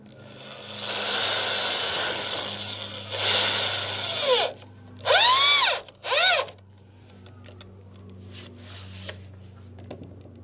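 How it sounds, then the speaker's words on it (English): A cordless power drill drives screws into a wooden deck in several short bursts, each spinning up and then winding down with a falling whine. The drill is close and loud, with quiet gaps between screws. "we're spending our time screwing down this deck"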